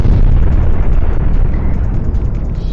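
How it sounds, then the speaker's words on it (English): Rolling explosions in a shooter video game, a dense continuous low rumble with bursts layered over each other, loud and sustained throughout with no pause. "use the explosions to take out bigger groups of them"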